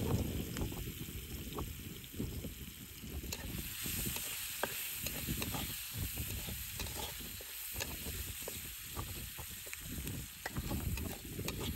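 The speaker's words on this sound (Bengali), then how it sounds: "পেঁয়াজটা খুব সুন্দর ভাবে ভেজে নিছি" Onions and green chilies frying in oil give a steady, faint sizzle with soft crackling throughout, continuous and unbroken, with no voices.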